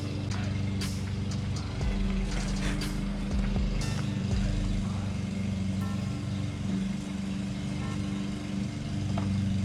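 An engine is cranked and held at wide open throttle until it runs out of fuel, giving a steady, loud, continuous mechanical drone with little change in pitch and faint voices in the background.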